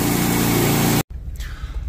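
Sawmill blade cutting through a basswood log to make framing lumber, a loud steady broadband roar that cuts off abruptly about halfway, leaving low rumbling machinery and faint background noise.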